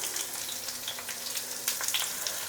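Halved small onions and garlic fry in hot oil in a pan for a South Indian mutton gravy, giving a steady, close crackling sizzle with brief pops and no voices.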